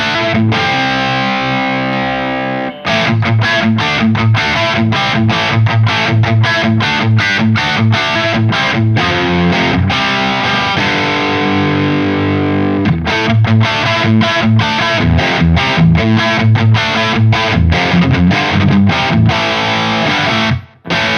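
An electric guitar plays through a Synergy 800 preamp in a high-gain, 80s hair-metal style, with thick, heavily distorted chugging riffs and sustained chords, loud and continuous with no talk.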